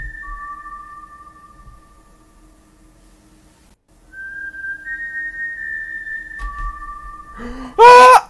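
A store-style whistle gives long, steady tonal notes, several held tones in sequence with pauses, followed by a short burst of louder, brighter sound at the end.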